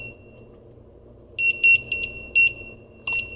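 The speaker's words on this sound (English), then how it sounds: "And I'm going to get the timer here." A kitchen cooking timer chirps in short electronic beeps, a quick cluster of about six bursts followed after a pause by one more, clear over a quiet room background.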